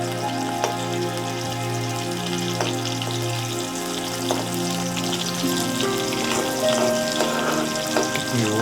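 Bitter gourd frying in hot oil in a pan for a Tamil-style bitter gourd, green chilli and coconut fry, with a steady close-up sizzle and scattered crackling pops of spattering oil throughout.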